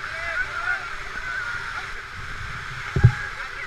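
Paddles working a raft on a river, with soft water gurgle and sloshing throughout and a brief close splash or knock near the end; people's voices are heard faintly over the water.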